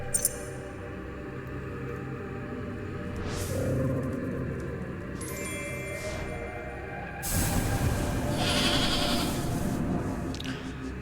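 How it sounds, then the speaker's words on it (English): A goat bleats faintly within a dense, rumbling ambient backdrop, with a couple of short wavering calls and the background growing louder toward the end. "Oh, and the goat noise and everything"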